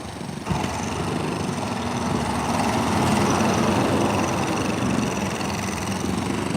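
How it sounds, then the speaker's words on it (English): A steady mechanical rattle and engine drone from a small jackhammer-like machine digging sandy soil, running continuously at moderate loudness. "Like a mini jackhammer."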